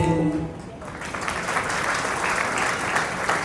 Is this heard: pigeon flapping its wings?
no